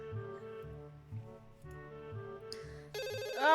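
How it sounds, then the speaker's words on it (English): A cell phone ringtone plays in the Katawa Shoujo video game, a melodic electronic tone sounding over soft game music, with a louder, brighter burst of ringing near the end; nobody talks. "Oh no, a cell phone ring."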